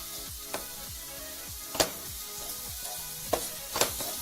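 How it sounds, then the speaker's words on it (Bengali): Ginger-garlic paste sizzles in hot oil with already-fried onions, a steady crackle broken by a few sharp stirring clinks and scrapes, close and moderately loud with no voices. "এবার আমি আদা রসুন বাটা দিচ্ছি"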